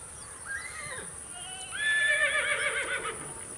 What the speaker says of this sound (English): What sound does a horse make?